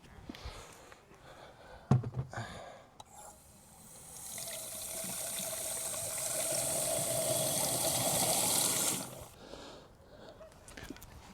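Water running into a motorhome toilet during a rinse, a steady rushing flow of several seconds that starts and stops, preceded and followed by a few faint handling knocks and no talking.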